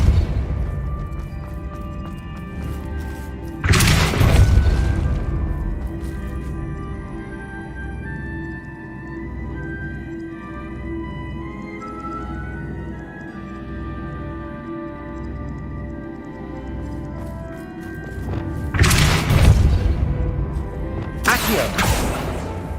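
The Depulso spell in Hogwarts Legacy lands twice as heavy whooshing booms, one early and another pair near the end, set against a low, steady game ambience.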